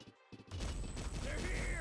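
Flashbang grenades in a tactical shooter game burst loudly after a short quieter lead-in, followed by a dense rumbling crash and ringing that fills the rest of the moment.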